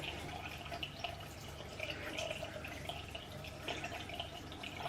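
Warm tap water runs steadily into a bathroom sink during face washing, with a soft continuous splash and faint drips throughout, at low volume and with no voices.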